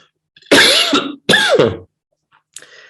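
One person coughs twice, loud and close, each a harsh throaty burst, followed by a fainter short cough after a pause.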